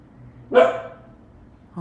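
A dog gives a single close, sharp bark outdoors, then a quieter second yelp starts just before the end.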